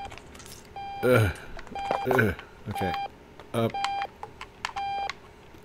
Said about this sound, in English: Oh, the alarm's on.